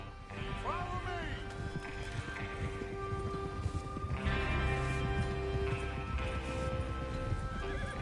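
Horses in the Red Dead Redemption 2 video game, with steady clip-clop hoofbeats and a whinny near the start, running continuously under game music and ambience.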